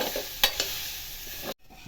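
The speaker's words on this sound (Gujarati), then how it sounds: "પાણી કાઢી તો નાખ્યું છે છતાં પણ આ રીતે શેકવાથી પાણી હોય તે પણ સુકાઈ જાય." Soaked soya chunks dry-roast in a pan with a soft, steady sizzle, broken by a couple of sharp stirring scrapes before the sound cuts off abruptly near the end.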